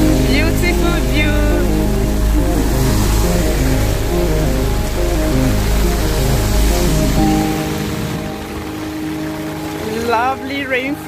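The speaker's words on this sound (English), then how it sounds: "when it rains, this is how the weather looks like." Rain falls steadily in Abakaliki, Ebonyi State, with a continuous hiss of drops on surfaces under voices and tonal background sounds, easing slightly near the end.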